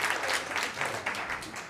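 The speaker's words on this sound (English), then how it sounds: "Clap if you guys know what daily affirmations are. Clap if you know what that is." A comedy club audience claps together in a brief, dense burst of applause, fairly close and continuous with no talk over it.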